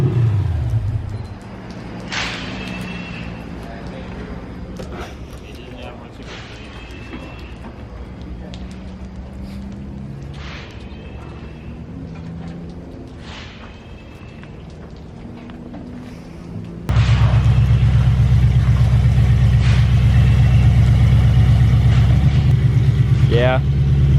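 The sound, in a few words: supercharged Toyota off-road truck engine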